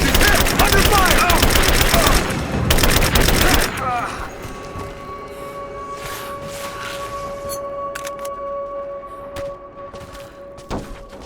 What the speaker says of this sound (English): Give me suppressing fire! Now! Light her up!